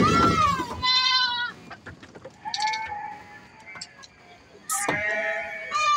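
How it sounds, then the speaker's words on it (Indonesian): Goats in a goat pen bleat loudly and close by, with several separate wavering cries and short gaps of rustling between them. "kandang kambing ini"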